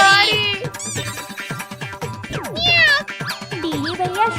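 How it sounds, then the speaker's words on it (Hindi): A cat meows repeatedly, several drawn-out, rising and falling cries close by with short pauses between them. "बिल्ली मौसी की आवाज आ रही है"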